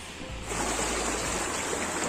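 Rushing water from a heavy rain-fed flow crossing a rural path near a village well, a steady broadband wash that swells louder after the first half second and continues unbroken, with a low rumble underneath.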